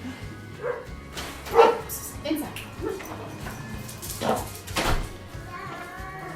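Indoor dogs barking in short bursts and whimpering, scattered through the clip and mixed with a person speaking nearby.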